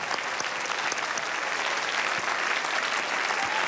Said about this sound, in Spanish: Vamos a recibir con un aplauso a Taladrí.